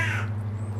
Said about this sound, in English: there's definitely a new magpie in the garden